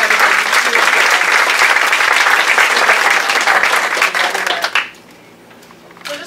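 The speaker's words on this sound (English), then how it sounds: "So I think that we should give her a round of applause" Audience at an award event giving a loud, sustained round of clapping that fills the room for nearly five seconds, then cuts off abruptly into quiet room tone.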